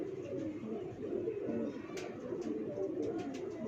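French pigeon cooing at a loft, a steady low murmuring coo running throughout at moderate level, with faint background chatter.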